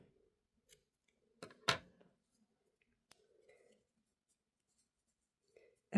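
Scissors trimming excess yarn while crocheting a motif bedspread: a few sparse, close snips and clicks, one sharper cut standing out, separated by quiet gaps with faint rustling.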